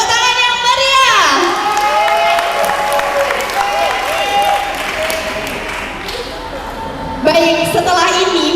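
An audience of students at a vocational school performance event applauds and cheers, loud and sustained, with a voice speaking over the crowd noise.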